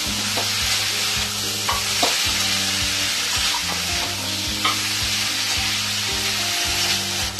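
Boiled banana flower and potato stirred into spice paste in a pan for Bengali mochar ghonto, rhythmic scraping strokes of a spatula with soft sizzling, close and steady under a tonal background.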